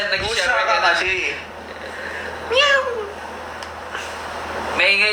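A cat meows several times, with rising and falling harmonic calls near the start, middle and end, mixed with nearby talk during a live stream.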